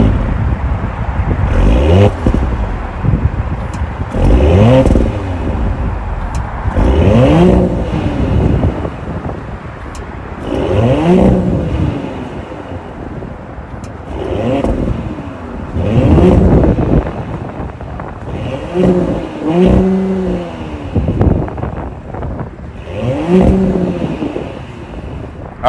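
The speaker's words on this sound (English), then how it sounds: "that was the sound of the 3-liter twin-scroll turbo V6 sold by Audi" A 2023 Audi SQ5's 3-liter twin-scroll turbo V6 revs repeatedly in a series of rising and falling pulls, loud and close, with wind buffeting the microphone throughout.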